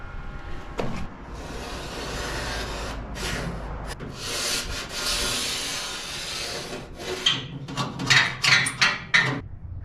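A scribe drags across a car door patch panel during rust repair welding work, giving close rubbing and scraping strokes that end in a quick series of sharp, rhythmic scratches.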